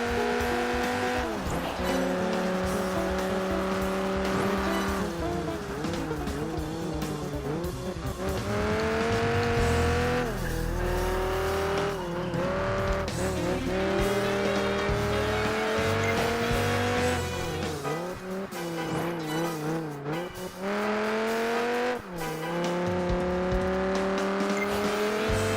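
Race cars in a Project Gotham Racing 4 street race, engines screaming continuously with rising and falling pitch as gears shift, loud and unbroken throughout with occasional tire squeal.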